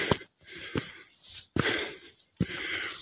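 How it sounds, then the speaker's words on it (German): Heavy, rhythmic panting from a hiker climbing a forest trail uphill on a humid day, loud and close, with sharp breath bursts separated by short pauses. "ich schnauf recht, weil es doch ein bisschen bergauf geht"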